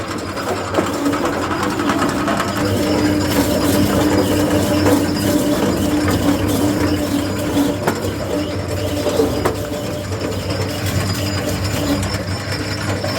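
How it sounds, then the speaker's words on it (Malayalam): An arecanut cutting and slicing machine runs loudly and steadily, giving a continuous rattling, ratchet-like mechanical clatter throughout, with no talking. "ഇതുപോലെ നമുക്ക് സെൻറ്ററായിട്ട് പൈക്കടക്ക കട്ട് ചെയ്തെടുക്കാം."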